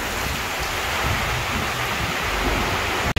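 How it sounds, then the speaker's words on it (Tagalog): Heavy rain pours down in a dense, continuous roar, loud and close, with no voices, ending in a sudden brief cut. "Mampas yung ulan guys eh."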